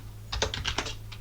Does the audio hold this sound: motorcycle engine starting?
no